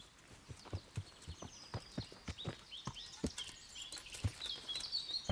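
Hooves of a horse in Kingdom Come: Deliverance clip-clop in an uneven walking rhythm, moderately near, with faint bird-like calls in the background and no talk.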